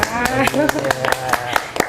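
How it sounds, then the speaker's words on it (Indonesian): A school audience at a water-rocket competition claps in scattered, sharp strokes over a voice talking throughout, the hand claps close and uneven across two seconds. "Tepuk tangan."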